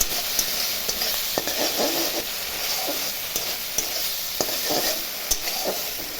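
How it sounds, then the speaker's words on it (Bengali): A spatula stirs pea paste frying in oil in a wok while the water cooks off, a steady sizzle under repeated scraping strokes and light metallic taps, close and even. "জলটা শুকানো অবধি একটু ভাজা ভাজা করে নেব।"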